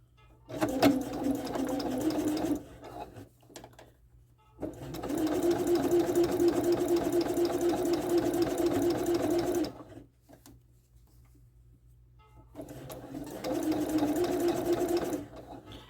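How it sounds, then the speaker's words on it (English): A sewing machine fitted with a gathering presser foot runs in three loud, steady bursts of rapid mechanical stitching, separated by short quiet pauses, with no talking. "Now take a few stitches."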